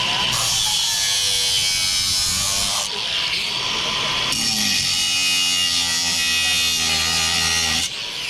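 A drill bit cutting into 304 stainless steel gives a steady, loud, high-pitched whine that runs almost without a break, with brief dips in pitch and load partway through, close to the mic.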